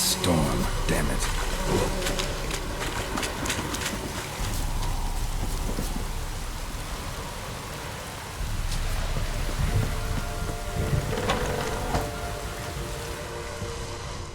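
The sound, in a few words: storm with rain and thunder in The Witcher 3 video game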